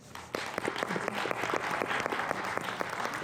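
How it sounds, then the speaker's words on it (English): A conference audience at an AI industry event breaks into applause for a speaker, starting abruptly and continuing as dense, steady clapping with individual sharp claps standing out. "Please give him a round of applause."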